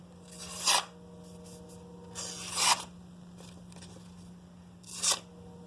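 A knife blade drawn across a sharpening surface in three separate strokes, each a short rasping scrape with quiet gaps between, close and clear, no talking.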